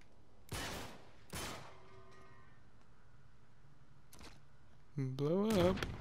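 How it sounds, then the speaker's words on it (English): Two sharp pistol shots crack close together in Uncharted 3, followed by quieter scattered sounds and a short spoken exclamation near the end. "It only takes 2 shots from that pistol you're using to kill somebody"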